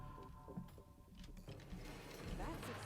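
Whirring, ratcheting machinery among sewage vats in a sewer level of the Dungeons and Dragons Online video game, a faint stream of soft gear clicks and mechanical churning.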